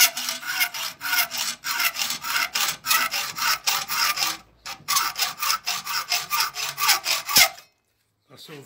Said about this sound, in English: I saw the top off.